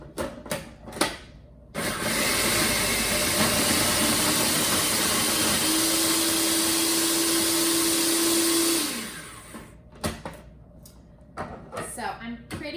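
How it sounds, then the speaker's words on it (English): Food processor whirring as it blends a sweet treat mixture, a loud steady motor drone lasting about seven seconds with a rising tone near the end, preceded and followed by brief clatter and talk. "don't skimp on the processing with your food processor"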